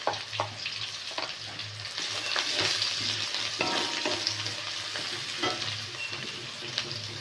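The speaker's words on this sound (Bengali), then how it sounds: "একটু ভাজা হয়ে যাওয়ার পরে আমি রসুনটা ফোড়ন দেবো।" Steady sizzling of garlic frying in hot oil, with occasional scraping stirs from a utensil against the pan.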